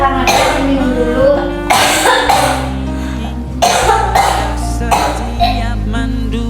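Close, loud, repeated hacking coughs come from a woman acting as an ailing mother in a student Indonesian drama performance, in uneven clusters over a sustained musical backing.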